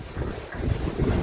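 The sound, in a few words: strong wind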